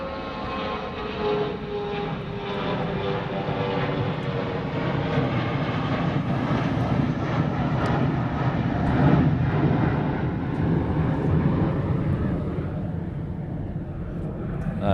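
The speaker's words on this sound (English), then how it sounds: "This 717's coming in on the crossing runway." A Boeing 717 comes in to land on the crossing runway at Honolulu airport, its jet engine roar a steady, broad rumble that swells in the middle and slowly eases off, heard alone from a distance.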